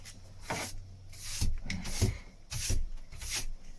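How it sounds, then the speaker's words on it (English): Sander working over a flat wooden face in repeated back-and-forth strokes, a soft rasping rub swelling and fading with each pass, close and fairly quiet. "I'm sanding this flat side not to hit this face too much with the front of the sander"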